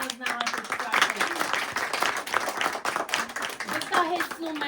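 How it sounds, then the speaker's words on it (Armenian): Applause and clapping from an audience at an Armenian book festival celebration, a dense, steady patter of hands under and between a speaking voice. "Լանա ջան առաջարի ևս քեզ առանձնահատուկ ծափել"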